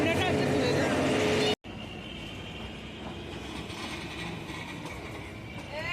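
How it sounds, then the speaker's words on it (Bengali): Kalka–Shimla toy train locomotive running in winter, a steady rumbling rail drone with faint wheel clatter; a loud opening stretch breaks off briefly, then the moving train continues evenly at moderate level. "চলো, এটা আমাদের লোকোমোটিভ ইঞ্জিন,"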